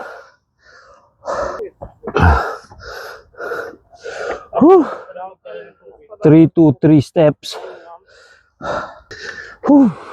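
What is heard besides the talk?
heavy panting after climbing steps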